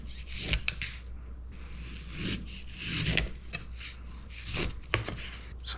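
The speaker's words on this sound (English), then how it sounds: "I left it partially frozen just so that I could hopefully try and cut off a few little nicer" A knife slices through a partially frozen pork shoulder roast, making scattered rough scraping and cutting sounds with a few sharp knocks on the board, close up and with no speech.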